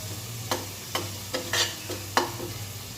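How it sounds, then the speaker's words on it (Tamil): Ginger garlic paste sautéing in oil for Chettinad chicken kuzhambu, a low sizzle punctuated by about six sharp spoon scrapes against the pan in a quick, uneven rhythm. "இதில் இஞ்சி பூண்டு விழுது போட்டதும் அது எண்ணெயோடு நல்லா வதக்கி விடுங்க."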